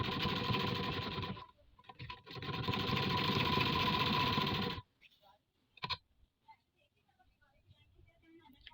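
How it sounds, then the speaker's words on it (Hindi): A sewing machine stitches the lower border of a daman, the hem of a dress, running loud and steady in two bursts with a brief pause between them, then stopping, followed by faint clicks and handling sounds. "अब नीचे से बॉर्डर की सिलाई यहाँ से हम शुरू करेंगे।"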